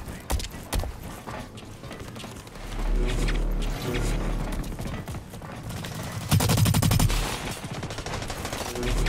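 Rapid video game gunfire in a multiplayer shooter, with dense automatic bursts and single cracks running nearly nonstop and growing heavier toward the end, loud and close with no talk.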